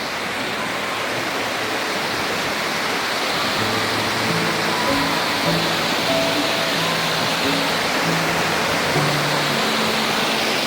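Rushing water from the Wagani waterfall in the rainy season, a loud continuous broadband roar that stays steady throughout, with faint low voices in the background.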